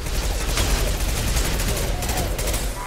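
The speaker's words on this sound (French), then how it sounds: "On se bat en aveugle, on se fait canarder de tous les côtés." Rapid gunfire from the video game Mass Effect 2 forms a dense, continuous barrage with a few sharper bursts, loud and close throughout, and a voice may talk over it.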